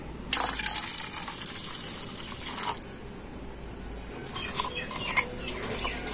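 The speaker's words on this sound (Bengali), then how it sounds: "আর টক দইয়ের মধ্যে আমি দিয়ে দিচ্ছি জল।" Water poured into sour yogurt for lassi, with two short splashing pours close by separated by a quiet gap, fairly soft overall.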